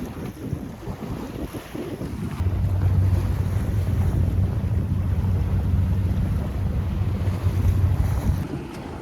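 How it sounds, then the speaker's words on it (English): Wind rushes across the microphone on a sailboat under sail as it picks up speed, with a steady low rumble and a hiss of moving water that swells slightly midway and holds throughout. "the wind has picked up a little bit, so we're moving a little faster"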